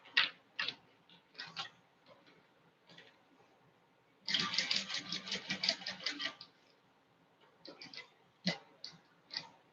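Short mechanical clicking bursts come and go from a hand-cranked sewing machine stitching over zipper teeth, then a faster run of rhythmic stitching ticks for about two seconds before slowing to sparse taps again, with air conditioning running.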